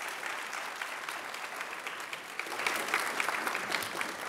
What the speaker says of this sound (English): So you all should give your own selves a hand of applause